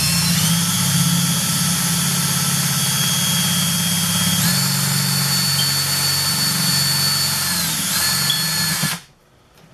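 A power drill bores into a dark whole coconut with a loud, steady high whine that runs almost unbroken for about nine seconds, then cuts off abruptly.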